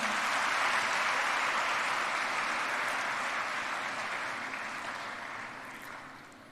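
A large audience at a college inauguration ceremony applauds steadily, a dense wash of clapping that holds loud for several seconds and then gradually fades toward the end.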